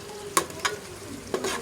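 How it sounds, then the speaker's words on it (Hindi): Masala for chicken achar gosht fries in a pan, a steady close sizzle broken by three scraping strokes of the spoon, with no voices. "मैंने मसाला डाल दिया, अच्छे से मसाला भुन जाएगा"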